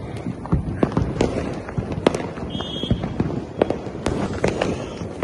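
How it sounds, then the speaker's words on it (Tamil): Diwali firecrackers burst in a rapid irregular series of sharp bangs and crackles, some close and loud, others farther off, heard from a third-floor vantage with no talk. "ஆனா பட்டாசு அவ்வளோவா ஸ்கை ஷாட்ஸே இல்லை."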